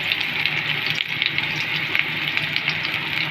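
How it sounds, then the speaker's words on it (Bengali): Sliced onion frying in hot oil in a home kitchen gives a steady, close sizzling hiss that holds evenly from start to end, with no talking. "পেঁয়াজটা একটু ভাজা হোক"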